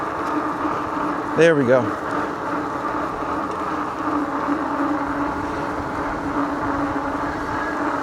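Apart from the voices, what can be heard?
Tracer Loiter Cruiser e-bike riding with pedal assist and gear shifts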